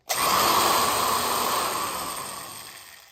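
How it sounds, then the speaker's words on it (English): A vintage electric drill bores holes through a metal lantern, giving a loud, close, steady whining hiss that starts abruptly and slowly fades over about three seconds. "Now we drilled out the holes with this vintage"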